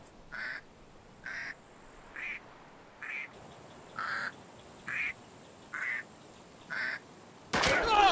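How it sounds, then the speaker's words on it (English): Duck call whistle from the game Deadside quacking eight times in an evenly spaced series of short, moderately loud calls, ending in a brief burst of louder noise. "A duck whistle?"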